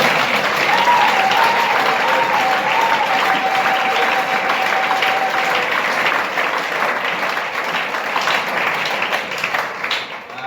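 Church congregation breaking into loud, sustained applause that fills the space, steady clapping from many hands for about ten seconds, tapering slightly at the end, with a brief sung or called voice early on.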